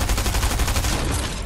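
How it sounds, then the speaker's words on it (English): A shotgun blast in Fortnite, a loud close boom with a rough roaring tail, brief and alone. "One good shotgun shot."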